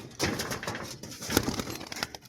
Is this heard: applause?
no